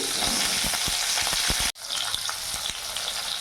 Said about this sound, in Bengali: ওই তেলের মধ্যে আমি বেগুনগুলো ভেজে নেব।